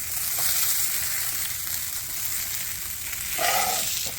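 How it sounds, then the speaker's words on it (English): Hash browns sizzle on a griddle in a continuous frying hiss, with a brief scraping swell partway through as a section is flipped with a spatula. "I'm going to flip this first section over."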